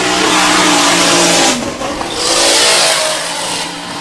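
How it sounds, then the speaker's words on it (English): A drift car makes a competition run at the British Drift Championships, Round 3 at Teesside, in the Pro-Am class. Its engine revs loud and close in sustained roaring bursts, dipping briefly and then surging again. "great run by Nergis there"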